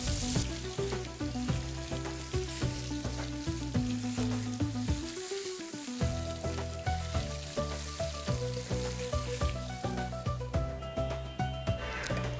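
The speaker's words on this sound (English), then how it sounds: "আলুগুলোকে একটু পাল্টে পাল্টে ভেজে নিচ্ছি যাতে চারিদিক সমানভাবে রান্না হয়।" Potatoes fry in oil in a pan and are occasionally turned over. A steady sizzle plays beneath tuneful background music.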